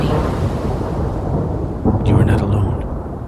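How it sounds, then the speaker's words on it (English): Thunder sound effect in an audio drama, a storm at sea outside a ship: a low rumbling roll runs throughout and swells into a louder crash near the end, with rain-like hiss layered beneath. "a lightning bolt crashed outside the ship"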